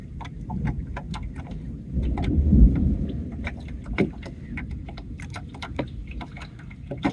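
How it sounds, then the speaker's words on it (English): Distant thunder near a boat anchored at Tin Can Bay: a low, rolling rumble swells midway through and fades, under light wind and scattered small clicks and taps close by, no talking. "Well, I'm hearing the thunder"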